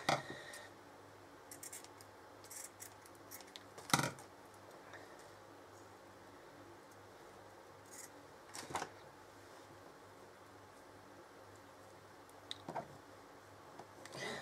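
Scissors cutting paper for a lace wall hanging, a few sharp isolated snips spaced several seconds apart over a quiet background with faint rustling.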